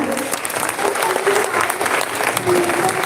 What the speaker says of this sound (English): Also, just a big round of applause for Darshana.